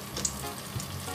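Potato perkedel fritters frying in hot oil, a steady close sizzle with faint crackles and bubbling throughout, no voices.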